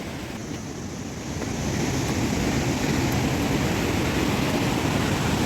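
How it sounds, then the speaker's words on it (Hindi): Gallu waterfall roars as a broad, continuous rush of water, close and loud, swelling after the first second and then holding steady with no voices. "बस हम पहुंच गए लगभग गल्लू वाटरफॉल की तरफ।"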